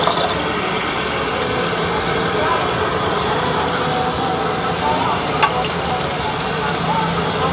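Frying food at a small Indonesian street-food stall that sells a single fried product, with a steady broad sizzle running throughout and a faint voice talking over it.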